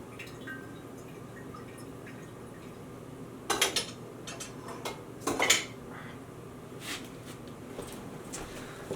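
A spoon clinks against a glass jar a few times while scooping out a vinegar mother, with soft wet drips and light clatters over a quiet background.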